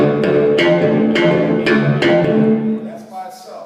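Bass guitar played through an envelope phaser pedal on its own, with a few plucked notes that swell and sweep, loud and close, tailing off into a fading note.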